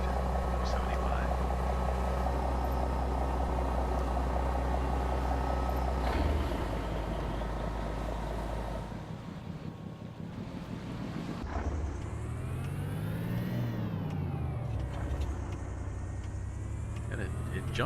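Mack B62 truck with a supercharged Cummins 275 engine in American Truck Simulator, a deep steady diesel drone that holds loud and then rises in pitch as it accelerates, with talk over it.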